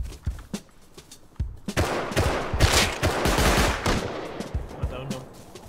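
Rapid bursts of semi-automatic rifle fire from a SAR in the survival game Rust, with sharp cracks that come single at first and then build into dense overlapping volleys, loud and close, with faint voices mixed underneath.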